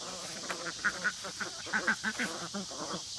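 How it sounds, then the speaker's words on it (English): Ducks quacking in a barnyard, among them a big white Pekin drake: a handful of short, moderately loud quacks come in two loose clusters over faint background noise. "So you can see we have two different breeds of ducks. The big white duck is a pekin, like the Aflac duck."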